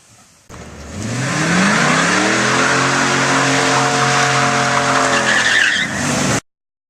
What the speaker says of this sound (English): or whether you're driving a car,